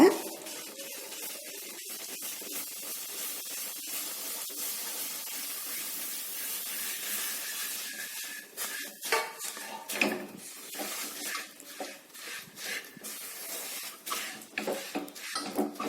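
Roasted sesame seeds stirred into hot jaggery syrup in a pan, with a steady steamy hiss and scattered scraping and clinking of the spoon against the pan that grow more frequent and louder toward the end.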